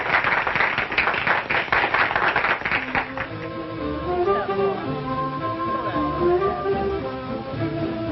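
A theatre audience claps and applauds to welcome a performer, dense and close for about three seconds before thinning out as band music takes over.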